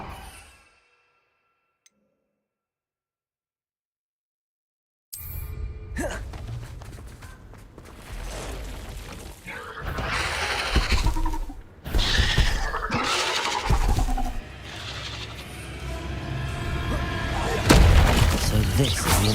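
A Confringo blasting spell explodes in Hogwarts Legacy, opening a few seconds of silence with a loud burst followed by a dense run of blasts, crackles and debris, with in-game battle sounds continuing to the end.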